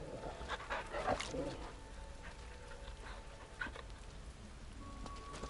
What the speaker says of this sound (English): Wait, can I pet the dog?